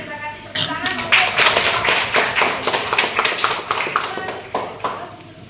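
An audience at a university class presentation in Jakarta claps in a dense, steady patter of many hands, fairly close, with some voices underneath.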